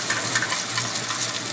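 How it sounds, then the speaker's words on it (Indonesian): Garlic sizzles in a hot wok, a close, dense, continuous frying hiss with faint crackle and no voices. "Lalu kita panaskan wajan, kita tumis bawang putih"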